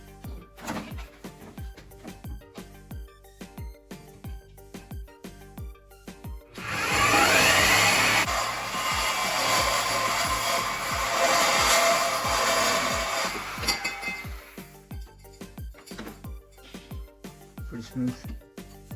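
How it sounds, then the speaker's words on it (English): A saw cuts through an exhaust tailpipe for a Ford Raptor clamped in a vise, a loud, steady grinding rasp of about seven seconds that rises suddenly amid quieter workshop clatter and fades abruptly. "And I'm gonna put it on my vise and cut it with the saw saw."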